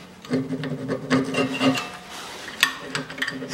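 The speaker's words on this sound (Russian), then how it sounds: "Чищу сами скобы щеткой по металлу и вычищаем вот эти места здесь." A wire brush scrubs the rear brake calipers of a 2013 Mitsubishi ASX 1.8, making close, rhythmic rasping strokes in uneven bursts with short pauses between them.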